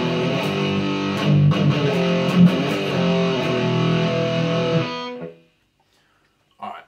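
Heavily distorted electric guitar chugs through power chords on a song's chorus, a dense, loud wall of sound for about five seconds before cutting off, followed by a brief faint sound near the end.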